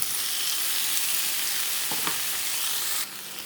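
Tomatoes tipped into a pan of frying onions and garlic paste, giving a loud continuous sizzle with a brief clatter as they land, the frying dropping a little near the end, no talk.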